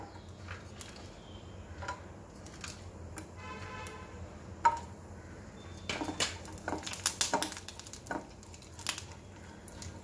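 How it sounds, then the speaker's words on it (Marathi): Dried coconut slices sautéed in a pan make scattered light ticks and scrapes, with a cluster of quick clicks midway, close by and without talk. "त्यात आपण हे सुके खोबऱ्याचे काप आहेत, हे आपण परतून घ्यायचे।"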